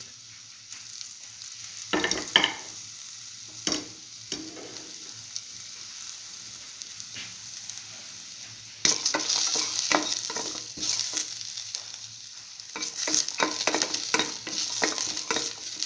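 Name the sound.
garlic stir-frying in a pan for mint eggplant bread stir fry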